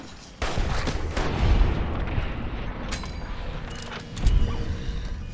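A gun fires in the Fallout New Vegas video game with a sharp loud crack that opens into a rumbling echo, then a second booming shot about four seconds later, with ringing metallic tails.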